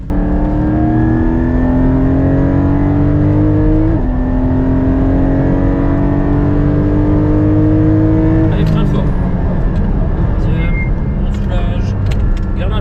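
A Porsche GT4 on a race circuit accelerates hard, its engine note climbing through two gear changes, loud and close, with a driving instructor talking over the engine.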